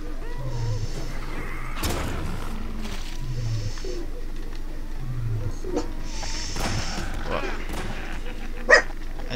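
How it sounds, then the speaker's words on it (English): A dog barks in a room while the Half-Life 2 video game plays: several short barks spaced across the stretch, mixed with game sounds and voices. "Goddamn dog, don't bark right now."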